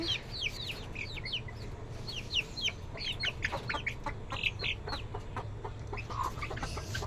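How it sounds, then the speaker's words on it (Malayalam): Several Gramapriya breed chickens cluck and chirp nearby in quick, overlapping bursts over a low background hum. "ഇത് ഗ്രാമപ്രിയ എന്ന് പറയുന്നൊരു കോഴികളാണ്"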